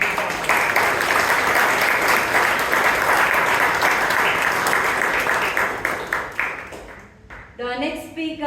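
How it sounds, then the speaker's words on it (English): Members at a Toastmasters club meeting give a speaker a big round of applause, dense clapping that holds strong and then thins out and fades near the end, where a voice starts talking. "let's give it a big applause"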